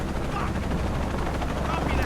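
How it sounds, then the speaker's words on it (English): A helicopter in the Shadow of the Tomb Raider video game gives a steady, loud rotor roar that fills the whole clip without a break. "now we got a helicopter?"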